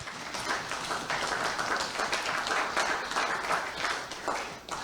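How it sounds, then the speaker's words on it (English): Delegates at a Caribbean conference on youth, migration and climate change give a round of applause, a steady mid-distance patter of many hands that continues evenly throughout. "A big round of applause again."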